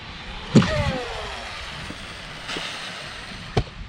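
Arrma Typhon 6s RC car jumping off a ramp outdoors, a sharp landing thump followed by a whining electric motor sweep, then further thumps and a brief high whine, heard from a short distance without talk.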